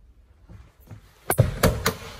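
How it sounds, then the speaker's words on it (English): A rear electric sliding door on a 2019 Volkswagen Transporter T6 Highline Kombi runs with a quiet motorized hum, then latches with a few sharp clunks and thuds close by. "Twin electric sliding doors on the rear."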